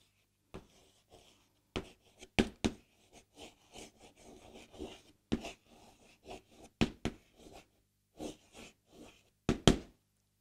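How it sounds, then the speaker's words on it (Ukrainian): Handwriting on paper while a math answer is written down, with scattered scratchy pen strokes and light taps at an irregular pace, close and quiet. "Отже, записуємо відповідь."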